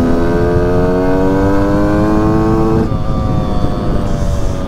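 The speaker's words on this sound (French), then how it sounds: "Ah, la moto elle est froide là, elle kiffe pas trop les" A cold motorcycle engine revs on a chilly morning, loud and close, its droning pitch climbing steadily before dropping back to a rougher, lower idle.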